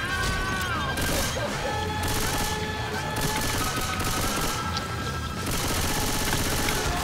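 Left 4 Dead 2 co-op in a swamp level: sustained rapid automatic gunfire bursts with crashing impacts and booms, loud and dense across the whole stretch.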